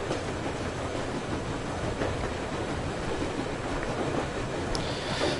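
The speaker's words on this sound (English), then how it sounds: "this train is always going along a very straight line" A train rolls along its tracks in the video game Metro Exodus, giving a steady, even rumble that holds at one level for a few seconds with no voices.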